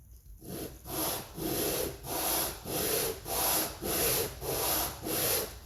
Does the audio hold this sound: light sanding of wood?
yes